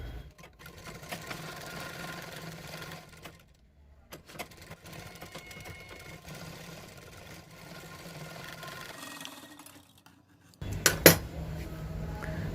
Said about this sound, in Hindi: इसके किनारे किनारे हम सिलाई देंगे